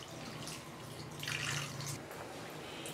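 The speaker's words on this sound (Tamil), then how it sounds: "இப்போ தேவையான அளவுக்கு தண்ணி சேர்த்துடலாம்." Water poured into an egg thokku gravy cooking in a pan, a soft steady trickle and splash lasting a few seconds, fairly faint and close, with no talking over it.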